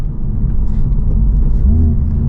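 2024 Honda Civic Type R accelerating in third gear, a loud close cabin engine rumble with a low steady drone that rises slightly toward the end.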